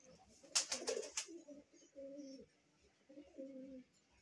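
Red Musaldom pigeons coo softly in a few low, rolling phrases close by, after a brief burst of rustling or flapping at the start.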